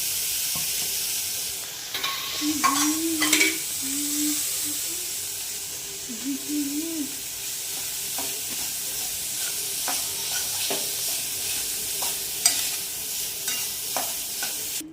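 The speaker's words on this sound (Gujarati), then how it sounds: "માવો નાખી અને માવાને પણ થોડું શેકી લઈએ" Mawa (khoya) roasting in a pan for sweet ghughra filling, with a soft steady sizzle and scattered scraping stir strokes from a spoon; a voice hums or speaks briefly near the start.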